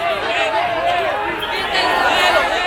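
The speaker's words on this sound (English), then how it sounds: "the mobs both cursing and cheering" Angry mob at the Venezuela border shouting, cursing and cheering in a continuous loud roar of overlapping voices, close by and unbroken.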